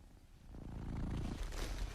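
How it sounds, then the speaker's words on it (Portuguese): A cat purrs softly and steadily, the low rumbling thrum swelling slightly louder partway through and continuing alone without any talk. "E há o ronronar."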